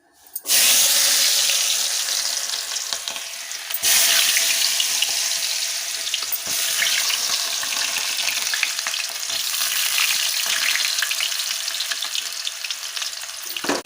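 Potatoes for fasting-day khichdi drop into hot oil with a sudden loud hiss, then keep frying in a strong, steady sizzle for more than ten seconds, broken by a few stirring scrapes.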